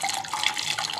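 Water splashes and trickles as peas go into a bowl of ice water, a brief, bright, continuous wet sound close by with no talking.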